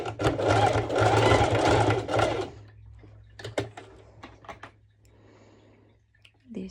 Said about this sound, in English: Lower the foot, and I will be doing a straight stitch over.